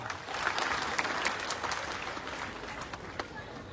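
An audience at a quiz-show-style event bursts into applause, a dense, even patter of many hands clapping for a few seconds with no talking.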